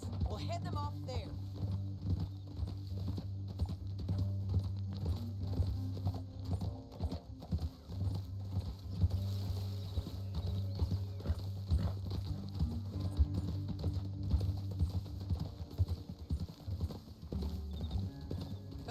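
Horse hooves clip-clop steadily through a canyon in the video game Red Dead Redemption, a continuous rhythmic trot heard under game music and characters talking.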